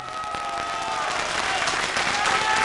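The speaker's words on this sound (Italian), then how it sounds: "un applauso per il più giovane campione del mondo" Audience applause at a five-pin billiards (stecca 5 birilli) match honouring the youngest world champion, steady clapping with a faint voice underneath.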